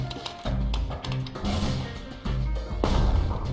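Mortar firing in the Bastion video game, a series of heavy booming thuds with crashing impacts, several shots in irregular succession, loud and close, with game music underneath.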